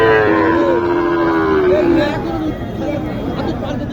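Cattle at a Shahiwal cow market in Naogaon, with several drawn-out moos rising over a dense, steady crowd hubbub of market chatter throughout.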